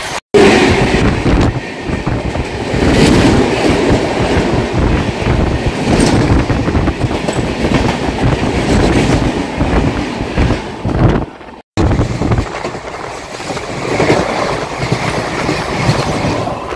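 Loud, continuous rumble and rattling clatter from the 12505 North East Express running on rails between New Jalpaiguri and Anand Vihar, heard from on board, with a momentary dropout before the din resumes.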